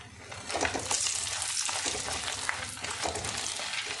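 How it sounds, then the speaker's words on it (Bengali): Whole spices (dried chili, cardamom, cloves, cinnamon) and bay leaf sizzle in hot oil for a Bengali prawn malai curry, a steady close crackling hiss with no voices. "দিয়ে এটা একটু ভাজা ভাজা মতন হয়ে যাবে মশলাটা, ফোড়নটা।"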